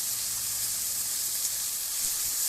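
Masala sizzling steadily in hot mustard oil during frying for a duck egg curry, a continuous bright hiss with no voices.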